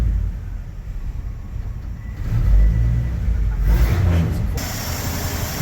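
A Chevy C10 six-cylinder engine with a new Pertronix Ignitor II and old carburetor fires up and runs, a low rumbling idle that swells into a rev, close and steady.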